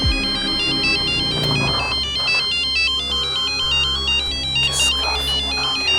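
A phone ringtone for an incoming call plays alone at moderate loudness, a repeating electronic melodic pattern lasting several seconds.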